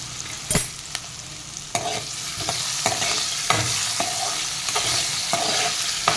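Potatoes stir-fry with onion and capsicum in a hot pan until golden, a constant sizzle broken by regular sharp scrapes and clacks of the spatula, close and loud with no voices.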